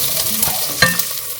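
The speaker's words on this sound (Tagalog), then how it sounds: "Ilalagay ko yung onion." Chopped onion goes into a hot pan for a homemade soup and sets off a steady close sizzle, with a brief stirring scrape and a sharp clack of a utensil partway through.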